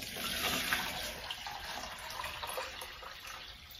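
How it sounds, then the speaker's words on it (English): Water pours into a container for a DIY hand casting project, a steady splashing hiss that is fairly close and continuous for a few seconds with no talk. "We're gonna pour water into here."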